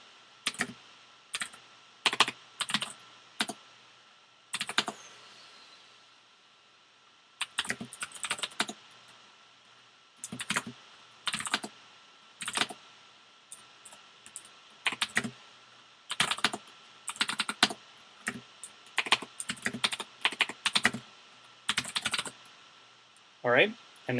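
Someone types a command on a computer keyboard in bursts of rapid key clicks separated by pauses, close and crisp, with occasional speech between bursts.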